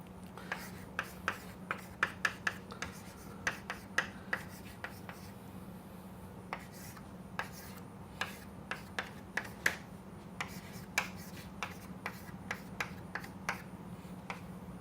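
Handwriting an equation on paper, heard as a steady series of crisp pen taps and short scratching strokes, close and quiet against a low background hum.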